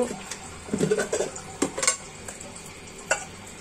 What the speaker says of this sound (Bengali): এখন আমি এটা তেলে ভেজে নিব।